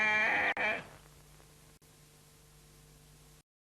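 A sheep in a road safety advert gives one short, loud bleat at the start, followed by a few seconds of steady static hiss until the sound cuts to silence.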